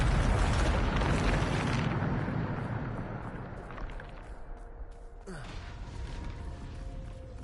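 A Bombarda spell explosion in Hogwarts Legacy gives a loud, sustained rumbling blast that slowly fades, followed by creaking debris and a brief sliding whoosh.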